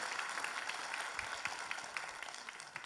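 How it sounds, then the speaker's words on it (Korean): Congregation applauding at a church worship service, a steady wash of many hands clapping at moderate level with faint voices mixed in, continuing throughout. "박수 한번 쳐줘요, 여러분."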